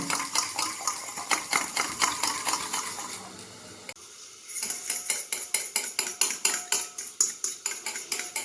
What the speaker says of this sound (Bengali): ডিমটা কাঁটা চামচের সাহায্যে এইভাবে প্রথমে ফেটিয়ে নেব